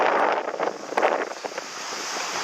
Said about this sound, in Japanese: 割と風は吹いてそうです